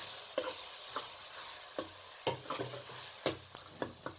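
Okra keema with green chillies fries in a pan, a soft hiss under scattered stirring clicks and scrapes of a spoon, close and moderately quiet with no talk.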